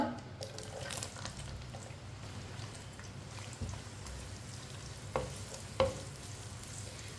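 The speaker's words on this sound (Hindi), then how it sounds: "प्याज को हल्का सा ब्राउन कर लेंगे" Finely chopped onion fries in oil heated for masala bhindi, giving a soft, low sizzle under faint scraping stirs, with a few small clicks of the spoon against the pan.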